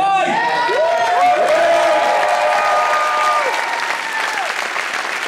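An audience at an Anime Expo 2015 convention Q&A panel applauds and cheers, with a loud, steady wash of clapping and scattered high whoops and shouts running throughout.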